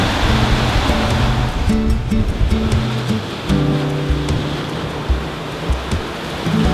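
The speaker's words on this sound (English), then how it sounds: "We are absolutely flying down the face of each wave as it passes us." A sailboat runs through big, choppy ocean swell between Cascais and Madeira, with loud, continuous rushing water that surges and dips as waves pass, over a low steady hum.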